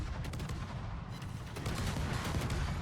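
Warship main guns fire in the World of Warships game, with a dense run of sharp, loud bursts and rumbling booms rolling one after another with no break.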